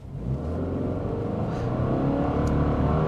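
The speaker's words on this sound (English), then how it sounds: "We're just going to floor it from a stop and see what we can get here." A 2024 Subaru Impreza RS launches hard from a stop on a slight uphill in sport mode, the engine note climbing steadily and growing louder over three seconds as revs build, heard alone without talk.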